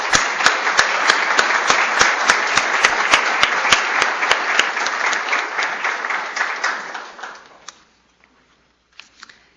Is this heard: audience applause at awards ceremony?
yes